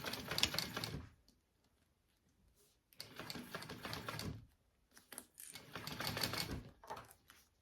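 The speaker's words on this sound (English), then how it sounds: "And then we just sew it on at an 1/8 of an inch seam allowance." Sewing machine stitching trim onto a bag at a narrow seam: three bursts of rapid mechanical chatter, about a second each, separated by quiet pauses, fairly faint overall.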